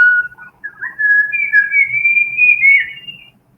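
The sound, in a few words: bird whistling song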